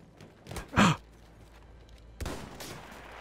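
A sniper rifle shot in Battlefield 1 cracks out once as a loud, sharp burst near the start, followed by a quieter second impact a moment later, with faint game ambience filling the gaps.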